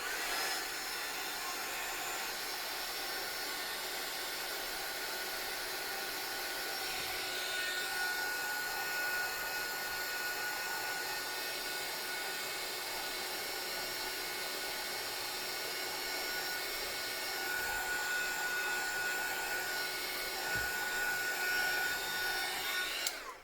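A heat tool blows hot air steadily over inked paper on a journal page, making a continuous close whooshing roar with a faint whine that shifts slightly in pitch, and no one speaks.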